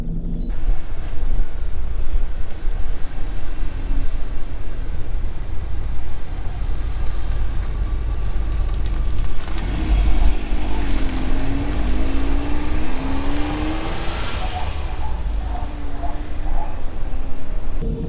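1992 Mazda Autozam AZ-1 kei car on a road test drive, its engine droning loudly and steadily with road rumble, rising and falling in pitch as it accelerates and shifts midway.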